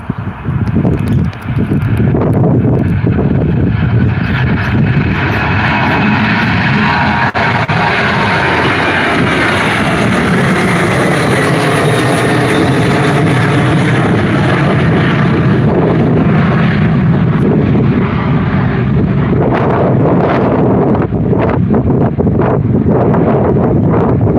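An airliner at Gold Coast Airport rolls down the runway and lifts off, a loud, unbroken roar of jet engines with heavy wind rumble that holds steady for the whole stretch.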